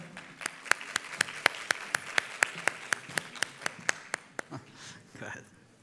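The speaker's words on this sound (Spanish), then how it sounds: "Por favor, los recibimos con un cálido aplauso." Steady rhythmic clapping from one or a few people, evenly paced, slowing and fading out near the end.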